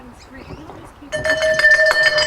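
A bell clangs repeatedly at a track cycling race to signal the final lap, bright and fairly loud under a commentator's voice, with arena crowd noise rising behind it.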